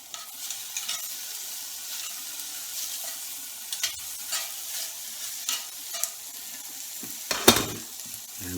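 Fat cut from meat rendering in a frying pan, a soft continuous sizzle with intermittent stirring scrapes and small pops, one louder clatter near the end.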